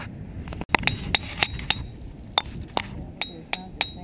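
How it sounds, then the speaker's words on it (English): Hammers strike ringing rocks on a windy late-March day, producing a run of about a dozen sharp metallic clinks with bright bell-like ringing tones at an irregular pace, close by over steady wind noise. "Let's break out some hammers."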